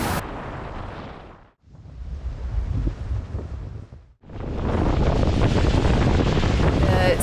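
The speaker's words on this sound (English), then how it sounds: "The sea state has gotten pretty sloppy this afternoon" Rough, sloppy sea and strong wind buffet a sailboat on open ocean, giving loud roaring wind rumble and crashing wave surges in three swelling gusts with short lulls between.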